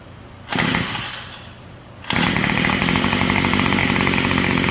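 The two-stroke engine of a Yard Machines Y2510 string trimmer is pulled on half choke: a brief sputter at first, then it catches at about two seconds and settles into a loud, steady, buzzing idle close by.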